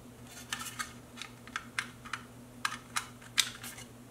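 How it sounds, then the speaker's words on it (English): A hard drive connector being plugged in inside a Late 2014 Mac Mini during an SSD upgrade, heard as a series of small, faint plastic clicks and taps in an irregular rhythm, close up. "connect the connector,"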